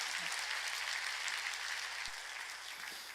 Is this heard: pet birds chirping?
no